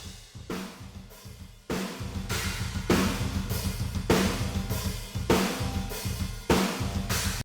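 Roomy drum kit heard through a room microphone, with washy cymbals, booming kick and reverberant snare hits in a steady groove.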